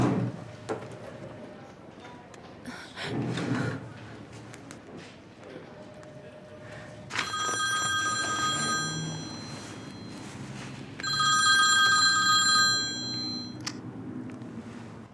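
A telephone rings in two bright, sustained bursts, each lasting about two seconds, interrupting a call. Between the rings there are scattered knocks and indoor bumps, with no clear speech.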